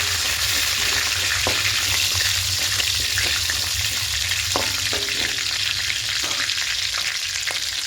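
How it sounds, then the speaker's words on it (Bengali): Whole cinnamon, cloves, cumin seeds and bay leaves fry in hot oil, giving a loud, steady sizzle with scattered spatters and light stirring clicks up close and no talking. "দারুচিনি, লবঙ্গ আর গোটা জিরে, আর দেবো কয়েকটা তেজপাতা। হালকা একটু ভেজে নেব।"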